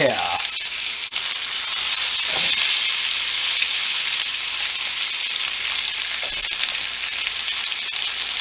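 Bone-in pork chops sear in a cast iron pan with a loud, dense, continuous sizzle and hiss, heard up close with a few brief shifts of the meat.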